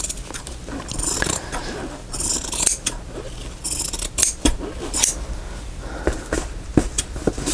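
Scissors cut paper for a journal page, with crisp, close snips arriving in irregular bursts, some quick runs of several cuts and some single sharp closes, set against a quiet room with no speech.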